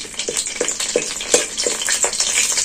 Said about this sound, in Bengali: তেজপাতাটা একটু লাল করে ফেরিয়ে ভেজে নেব।